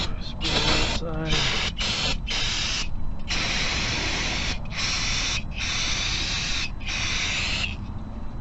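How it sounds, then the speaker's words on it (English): Brake cleaner sprayed onto the ATE brake parts of a Jeep WJ in a series of loud, close hissing bursts, each lasting about a second or more and separated by short gaps. "before we do some brake cleaner spray here"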